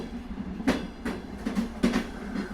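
A train pulls into a quiet station at night, heard as a run of rhythmic wheel clacks and rumbling bursts over a low steady hum, fairly close and with no voices.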